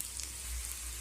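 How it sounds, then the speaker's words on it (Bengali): Round cabbage pakoras fry in hot oil in a pan, a soft, steady sizzle heard alone at low volume. "এবার আমি এইভাবে গোল করে শেপ দিয়ে পকোড়াগুলো ভেজে নেব।"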